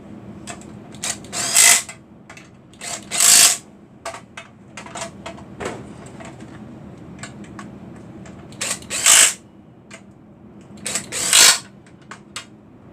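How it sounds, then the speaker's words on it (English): An 8mm socket on a ratchet wrench works bolts on a blown Hemi engine, with repeated clicking and a few louder ratcheting bursts spaced every couple of seconds, close and alone without talk. "Now we'll switch over to our 8mm socket."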